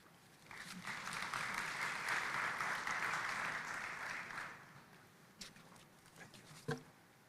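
Audience applause at the 18th COMESA Business Forum at KICC, Nairobi, a dense burst of clapping that swells, holds for several seconds and fades into scattered claps and room noise.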